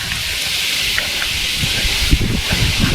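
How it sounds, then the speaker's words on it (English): Steady broadband wind rush with low rumbling gusts buffeting close to the microphone on a Dartmoor walk near the River Teign, continuous throughout with a few stronger bumps. "It's very windy today"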